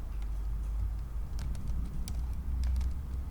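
Light, rapid clicking of fingers typing on a computer keyboard, steady and close, over a low constant hum, with no talking.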